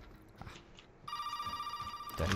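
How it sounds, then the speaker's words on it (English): A telephone rings in Resident Evil 7: a steady electronic trill with a clear tone starts partway through and repeats in quick pulses, loud and close, over a low ambient background. "Do I need to take that phone call?"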